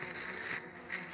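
Honeybees clustered on one side of a weakened hive buzz in a brief, steady, close hum with no voices.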